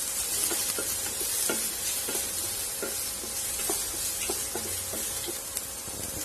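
Chopped garlic and capsicum sauté in hot oil for a pumpkin pasta sauce, giving a steady close sizzle with repeated scrapes and taps of a spoon stirring the pan.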